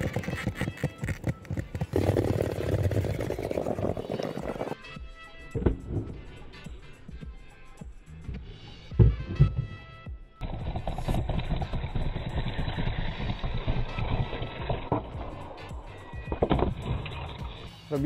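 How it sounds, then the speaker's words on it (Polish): Skateboard wheels roll and clatter outdoors during tricks, recorded on a Samsung Galaxy A80 phone, with rough rumbling runs, sharp board impacts near the middle and wind-buffeted noise throughout. "Robiliśmy tu właśnie jakieś triki na deskorolce."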